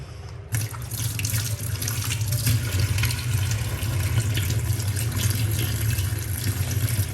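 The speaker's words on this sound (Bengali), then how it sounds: "এখন তো চিকেন বলে হাত ধুলাম" Running tap water pours steadily over hands being washed after handling raw chicken in a home kitchen, a loud continuous splashing rush filling the whole clip with no talk.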